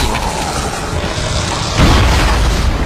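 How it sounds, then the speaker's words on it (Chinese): A gravity gun shockwave blast from the video game Dead Space erupts as a loud, deep boom about two seconds in, over a steady roar of game noise. "这个重力枪范围也非常大，我们看到这个冲白色冲击波"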